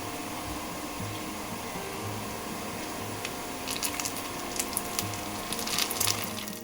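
Curry leaves drop into hot oil with golden-fried onions for a Marathi tondli bhaji, bringing a soft, steady sizzle that breaks into sharper spitting crackles partway through, without talk.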